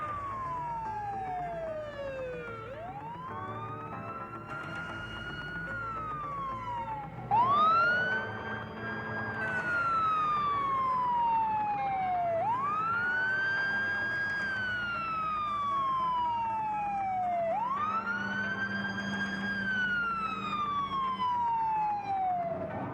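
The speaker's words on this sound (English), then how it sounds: "The flashing lights and sirens warn people that fire trucks are on their way." Fire truck sirens wail in repeated rising-and-falling sweeps, loud and continuous, with a second siren tone overlapping near the end over a steady engine rumble.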